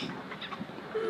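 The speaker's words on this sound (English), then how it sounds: "Seagull." A seagull holding a big breadstick in its beak lets out a short, muffled call, close by and fairly quiet, over soft outdoor background noise.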